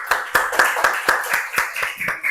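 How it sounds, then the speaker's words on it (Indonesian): A classroom group claps together in a quick, regular rhythm of sharp hand claps, close and clear, with no talking over it. "Kasih tepuk tangan dulu."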